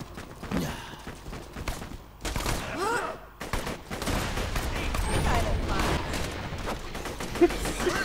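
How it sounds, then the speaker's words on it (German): Rapid bursts of Borderlands 2 gunfire crackle repeatedly over a busy, noisy background, with shots clustering in volleys rather than single isolated cracks. "bis Gerd auf die Vögel geschossen hat"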